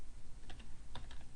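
Several quick keystrokes on a computer keyboard, close and fairly faint, clicking in a short uneven burst with no talking.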